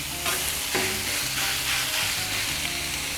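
Marinated beef, coated in hoisin, soy and oyster sauce with garlic powder, searing on a Blackstone griddle, giving a steady loud sizzle with occasional scraping stirs from a spatula.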